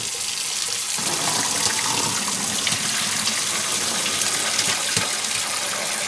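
Water gushes from a heavy pot of menudo con patitas into a kitchen sink while the cold tap runs, a steady, close, loud splashing pour without pause.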